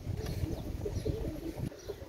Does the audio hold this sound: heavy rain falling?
no